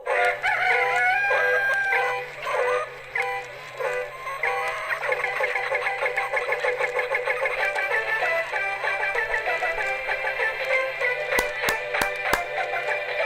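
A person imitates a rooster crowing with long, wavering cock-a-doodle calls, loud and close, ending with a few sharp clicks.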